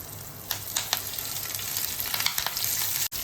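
Dry red chillies, curry leaves and chopped green chillies sizzle and crackle in hot oil, a close, steady frying hiss punctuated by sharp pops, with no talking.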